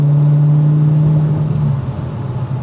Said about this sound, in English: I would just probably downshift so I can hear that exhaust throughout the journey